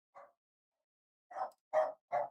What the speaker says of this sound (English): Oh god, I summoned the dog.